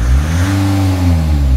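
A car engine revs steadily in a workshop during sensor and scanner waveform diagnosis after stalling problems, a smooth, loud, continuous drone with a gently rising and falling pitch and no talk.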